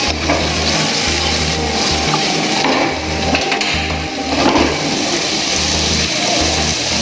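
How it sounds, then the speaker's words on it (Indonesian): Boiled vegetables sauté in a pan with a continuous broad sizzle and stirring, set against a steady low hum that pulses on and off throughout. "Kita masukkan sampai vegetable tadi yang sudah direbus ini ya. Dan kita tumis."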